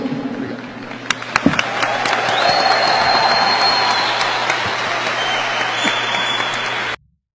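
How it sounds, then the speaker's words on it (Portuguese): A crowd applauds steadily for about seven seconds, with a few sharp claps standing out at first, then the clapping stops abruptly. "E é aplaudido"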